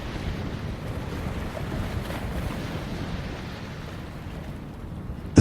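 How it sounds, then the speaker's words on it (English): Ocean waves wash steadily beneath a steady rush of high wind buffeting the microphone near moored boats, a continuous broadband roar with no distinct creaks standing out, ending in a brief sharp bump. "the steady creak of the moorings, the whisper of the high wind"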